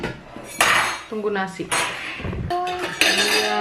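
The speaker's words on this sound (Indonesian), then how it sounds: "Itu yang udah sibuk ngambil sendok." Spoons and dishes clink and clatter loudly at a home meal where ikan arsik is being served. Several bright metallic rings and scrapes come in quick bursts, with a child's and an adult's voices speaking between them.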